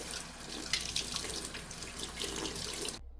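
New glass jars are washed under a running tap, a steady, close splashing hiss of water into a sink that carries on unbroken before stopping abruptly at the end.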